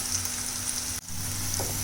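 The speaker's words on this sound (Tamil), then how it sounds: "நல்லா வதங்கி வந்துச்சு பாருங்கள்." Onions and garlic sauté in a pan for poondu kulambu, a steady close sizzle and crackle of frying with a brief dip midway, and no voices.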